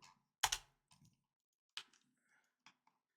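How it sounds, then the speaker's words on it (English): Sparse, crisp clicks of a computer keyboard with a sticking key, a few loud isolated taps separated by quiet gaps, close and alone. "I feel like one of my keys gets like stuck or something"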